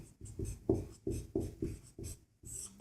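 Pen scratching out a maths solution on paper for a Class 10 arithmetic progression exercise, a run of short close strokes in a steady stop-start rhythm with brief pauses between words and symbols.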